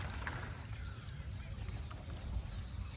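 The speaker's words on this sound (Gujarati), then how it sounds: "આમ સીધું કર્યું એટલે સીધું પાણી ચાલુ થઈ ગયું ઉપર" Water pours from a pipe into a tank on a farm, making a faint, steady rushing flow with a low rumble, heard continuously at a distance without talking.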